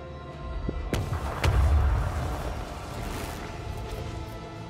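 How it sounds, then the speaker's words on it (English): Macro cannons firing during a space battle in the video game Rogue Trader, a few deep booming thuds with sharp cracks over a rumbling game backdrop, moderately loud and without speech. "Unleash our wrath upon my enemies. Macro cannons. Annihilate them."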